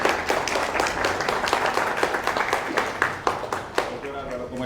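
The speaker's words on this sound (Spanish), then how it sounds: "Aplauso, por favor." Audience applause at a political training talk in Peru, a dense run of clapping that thins into a few separate claps near the end, fairly close, with faint voices underneath.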